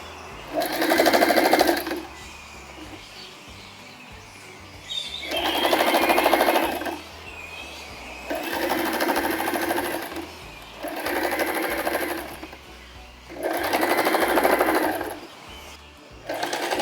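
A sewing machine stitches all the way around a fabric casing in four or five bursts of rapid whirring, each a couple of seconds long, separated by short pauses with quiet handling; close and fairly loud, with no talk.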